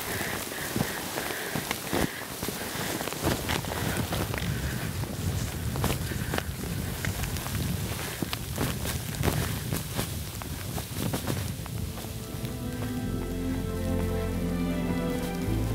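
Steady rain patters on a high mountain trail in China's Haba Snow Mountain area, with crunching footsteps, occasional sharp taps and a low hum building near the end.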